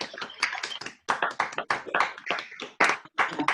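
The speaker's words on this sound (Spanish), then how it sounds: "un fuerte aplauso para Carlos" Uneven clapping from a small online audience after a talk on the Mudéjar fortress churches of Aragon, coming in choppy bursts with brief dropouts between them.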